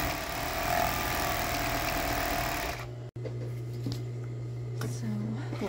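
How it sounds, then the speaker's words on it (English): An overlock sewing machine edges and trims stretchy swimsuit fabric with a fast steady whir that pauses briefly midway, then resumes as a lower hum, close and loud. "this machine cuts the excess fabric off while it does the edging there like that"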